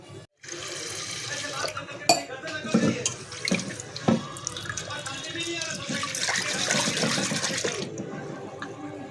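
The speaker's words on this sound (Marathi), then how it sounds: "स्वच्छ पाण्याने मस्त धुऊन घेतली चांगली डाळ" Toor dal being washed in water: splashing and sloshing in a bowl with rubbing and swirling, close up, gurgles rising and falling.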